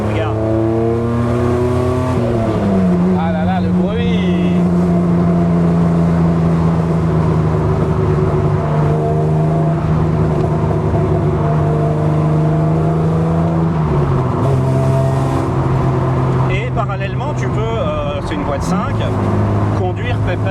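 A 1988 TVR S1 sports car engine revving hard above 4000 rpm heard from inside the cabin, a loud sustained drone that climbs, holds and shifts pitch with gear changes, with people talking over it.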